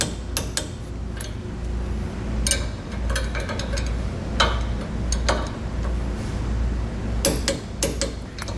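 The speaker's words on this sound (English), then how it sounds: "you want to make sure to come back and properly torque them down using a torque wrench" Sharp metallic clicks ring out at intervals over a steady background hum as bolts on a Kodiak disc brake kit are torqued down with a torque wrench, some clicks coming in quick pairs.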